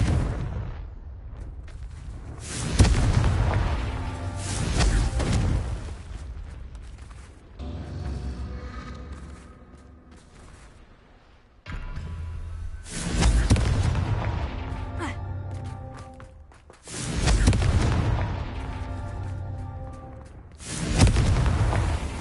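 Repeated booming blasts from a Confringo spell in a video game, several heavy explosions rising and fading in waves, loud and close.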